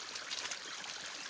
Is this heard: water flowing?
yes